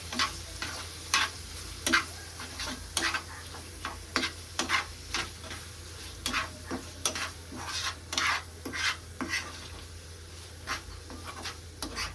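A dry prawn dish is stirred in a pan, a spoon scraping and clinking against the metal in irregular close strokes over a faint, steady sizzle, with no talk.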